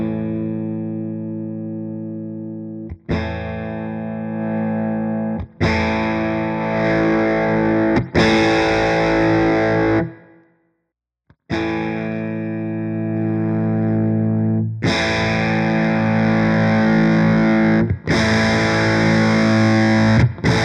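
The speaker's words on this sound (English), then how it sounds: "I'll sweep through from 0 gain all the way up to 10 on each pedal, so you can hear what the gain sweep is." Electric guitar played through Blues Driver and Blues Breaker overdrive pedals, repeated sustained strummed chords that grow steadily more distorted and gritty as the gain rises, with a brief silence partway through before the sequence starts again.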